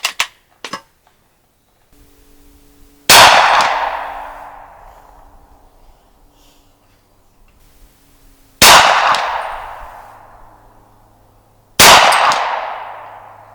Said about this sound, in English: shooting a High Point 45 carbine